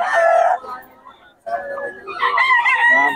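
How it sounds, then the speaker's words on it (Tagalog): A rooster crows loudly and close at a market in Bocaue, pauses briefly, then crows again in a long, strained call. "Ang manok ni kay Tony."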